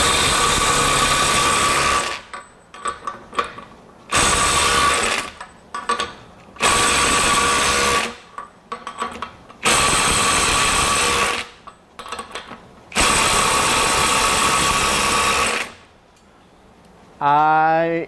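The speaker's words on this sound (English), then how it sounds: "So let's see if it'll break away 140 foot-pounds." A Ryobi One+ HP compact impact driver running on a 1.5 Ah battery hammers at a bolt torqued to 140 foot-pounds, firing in several loud, sustained bursts of rapid impacts separated by short pauses, with a brief whirring spin-down at the end.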